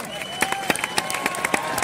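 Spectators at a state-level kabaddi final in Dapoli clap in a quick, regular rhythm. The sharp beats carry over a lively crowd murmur, with voices and a held tone running beneath.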